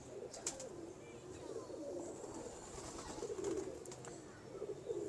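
Pigeons, bred and crossed by a fancier, coo in low rolling phrases close by, the soft gurgling calls repeating throughout over a faint background hum.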